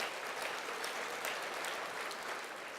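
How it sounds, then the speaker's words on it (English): An audience at a hall of fame celebration claps steadily, dense applause holding at a constant level throughout, somewhat distant and soft. "that's worth an applause"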